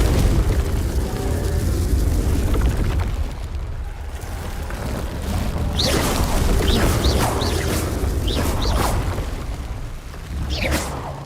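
Repeated Confringo fire-blast spell explosions in Hogwarts Legacy, booming bursts and whooshes over a dense rumbling battle bed, with several short sharp pops in quick succession toward the end.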